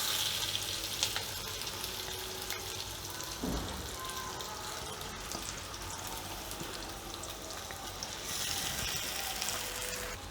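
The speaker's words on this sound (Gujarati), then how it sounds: "હવે આપણે આ બટેટાનો માવો જે કર્યો એ આમાં એડ કરી દઈશું" Mashed potato stirred into a spiced frying pan for samosa filling, giving a steady sizzle with scraping and stirring that runs continuously and fairly close, with no talking.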